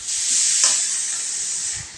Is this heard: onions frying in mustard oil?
yes